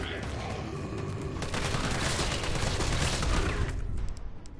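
Rapid gunfire in the Resident Evil 3 video game, a dense loud burst of overlapping shots filling the clip, swelling in the middle and easing toward the end.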